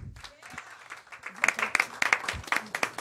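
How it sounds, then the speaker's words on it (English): Audience at an anniversary show starts clapping, the applause building from scattered claps into a fuller round that stays moderately loud and close, with a voice heard briefly at the start. "let's have a round of applause, please"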